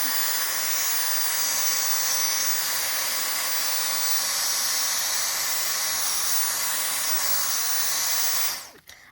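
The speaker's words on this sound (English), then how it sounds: "I'm just vacuuming that up with the crevice tool to show its suction" A cordless vacuum cleaner with a crevice tool sucks up dropped dirt, a steady loud airy whine and hiss running close and unbroken before cutting off abruptly at the end, with no talking.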